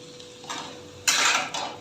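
Mustard flowers stirred in a dry pan with no oil, producing a few short bursts of rustling scrape, two of them close and fairly loud.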